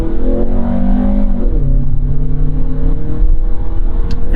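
A 1992 Honda Prelude SH drives at steady engine drone, the revs dropping and settling around the middle as a gear shift comes through, with continuous road and cabin noise throughout and no talking.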